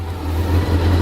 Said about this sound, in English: so it's idling with the choke off